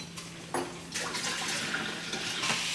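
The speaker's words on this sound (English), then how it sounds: "I'm now going to wash this bowl" Water splashing from a tap while a bowl is washed in a kitchen sink, a close, steady gush broken by a few brief splashes and clatters.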